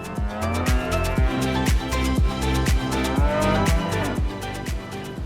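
Regular deep lowing from cattle, several calls in a steady rhythm, loud and close, with no talking.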